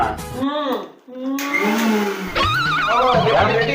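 A kitchen mixer grinder making coconut chutney whirs loudly and steadily while voices talk over it.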